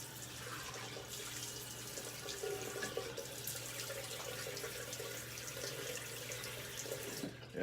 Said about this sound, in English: So I'm going to wet the face and get that started